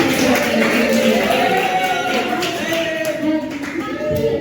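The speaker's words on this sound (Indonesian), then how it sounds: "Beri aplaus juga untuk diri kalian" Applause from a group in a classroom-style setting, with dense continuous clapping held steady for several seconds over a faint tonal background.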